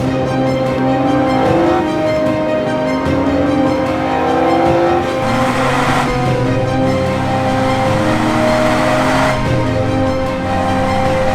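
A Renault Clio V6 Phase 2 engine accelerates hard, its loud, close roar climbing in pitch through repeated rises with brief dips between, with no one talking.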